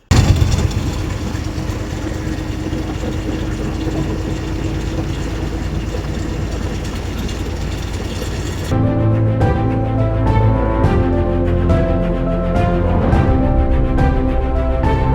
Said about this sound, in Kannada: ಗಾಡಿ ಓಡಿಸೋಣ